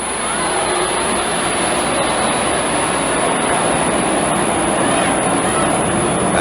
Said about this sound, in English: And the jet traffic continues from LaGuardia.